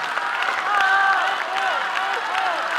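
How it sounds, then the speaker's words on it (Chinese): Brief, loud burst of crowd applause welcoming a Chinese traditional drum troupe and its teacher back on stage at a 2009 concert, with some cheering voices rising over the clapping. "再次热烈掌声欢迎邱长风邱老师以及重振鼓乐团。"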